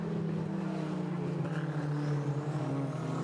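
A turbocharged Ferrari 288 race car fitted with a Honda K20 engine brakes at Road America, giving a steady, moderately distant engine drone whose pitch slowly shifts, with no talking.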